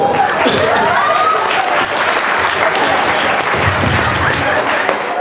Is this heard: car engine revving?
no